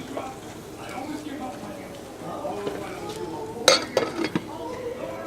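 A lid goes onto a slow cooker pot, giving a few close clinks and knocks of metal and glass, while a person talks steadily throughout.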